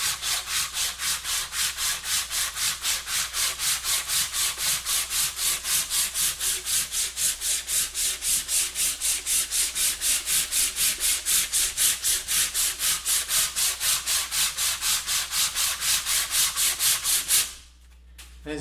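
A belt sander with a coarse 40 grit belt shapes a wooden guitar neck, a steady loud abrasive rasp pulsing with rapid regular strokes for about seventeen seconds before cutting off near the end.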